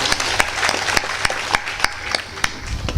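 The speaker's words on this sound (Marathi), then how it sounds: "त्यांच्याही नावाची एक टाळी वाजून द्या" An audience at a Bhagavat Saptah kirtan gathering in a village pilgrimage place bursts into applause: dense, continuous clapping with sharper individual claps standing out, steady and fairly loud throughout.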